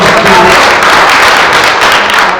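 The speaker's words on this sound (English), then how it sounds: "Let's have a big round of applause." A crowd at a Mumbai Indians cricket meet-and-greet event breaks into dense, loud, sustained applause, many hands clapping together without a break.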